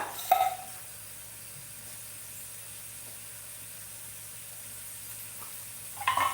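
Chickpeas, peas and brinjals fry in a pan, giving a steady, even sizzle that holds throughout at low to moderate level, with a brief clatter of stirring near the start and again near the end.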